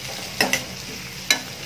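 Green chillies frying in a pan are stirred, giving three sharp scrapes of the utensil over a steady soft sizzle, close and fairly loud.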